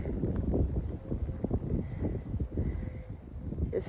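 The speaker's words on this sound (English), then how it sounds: "As you can tell, there's quite a wind" Strong wind blowing outdoors on an off-grid homestead, a dense continuous low rumble of buffeting gusts with no speech.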